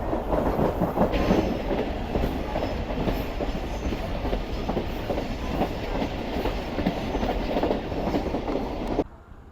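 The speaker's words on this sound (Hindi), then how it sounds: "कुछ इस तरह की स्पीड है इस वक्त हमारी ट्रेन का" Passenger train on the Larkana to Kotri route in Pakistan, heard from inside at night as a steady loud rumble with rhythmic clickety-clack of wheels over the rails, continuing evenly before cutting off abruptly.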